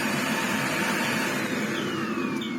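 A Miele CX1 Comfort XL bagless cylinder vacuum cleaner runs steadily after servicing, a loud, close, continuous motor roar and rush of airflow with a faint rising whine, and no one speaking.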